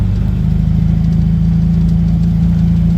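Steady idle of a car engine in good running condition, a continuous low rumble with a regular pulsing beat, loud and close, with no talking.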